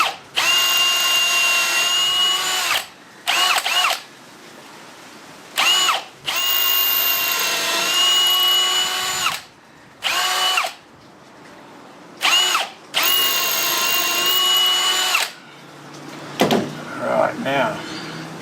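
Cordless power drill boring into hardwood decking in repeated bursts of a few seconds each, high whining motor with short pauses between, close and loud, with a voice briefly talking in a gap.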